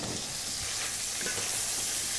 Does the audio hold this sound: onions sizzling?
yes